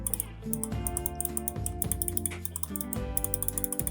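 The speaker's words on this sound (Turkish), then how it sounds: "Bunlar 70 milyon tıklama ömrüne sahip ve çok belirgin bir tıklama sesi var." Rapid, crisp clicking of a wireless gaming mouse's buttons, the ATK Blazing Sky X1 Ultra, repeats over and over, layered on top of background music.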